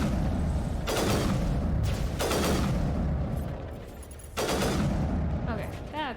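Squad gunfire from Mass Effect: Legendary arrives in several loud bursts of rapid shots with booming impacts, separated by brief lulls, with a voice talking over the fighting.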